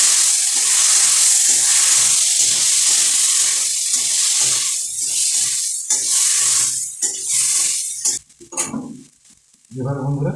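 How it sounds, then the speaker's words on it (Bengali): Water poured into a pan of vegetarian jackfruit curry with Kashmiri chili and sugar. A loud, continuous sizzling rush fills the clip, followed by a few softer splashes and stirring near the end. "একটু পরিমাণে জল দিয়ে দেবো।"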